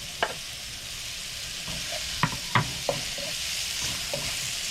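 Red pepper stir-frying in a hot pan, a steady soft sizzle with a few sharp scrapes and clicks of the utensil as it is tossed, close by and fairly quiet, with no talking.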